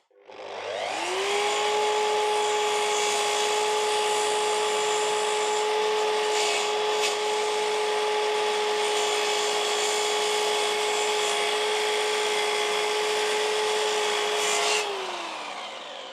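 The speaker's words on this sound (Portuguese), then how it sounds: "Agora vamos finalizar ele na nossa serra de esquadrilha." A miter saw spins up and cuts through a wooden stair step, a loud, steady whining tone that holds for about fourteen seconds before winding down, with the rougher rasp of the blade biting wood underneath.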